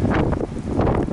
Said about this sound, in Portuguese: Vento aqui